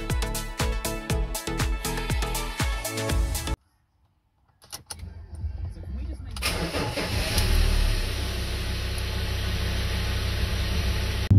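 Ford Ranger with a CCT turbo upgrade: rhythmic clicking and clunks, a brief silence, then the engine cranks and catches into a steady, rumbling idle up close.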